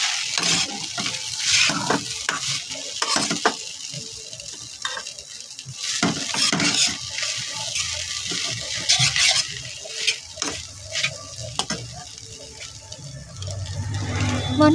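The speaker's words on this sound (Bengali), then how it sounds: "ভালো করে নেড়ে চেড়ে নিচ্ছি" A spatula stirs and tosses egg chowmein in a hot frying pan, steady sizzling broken by irregular scrapes and clinks at close range, with no talking.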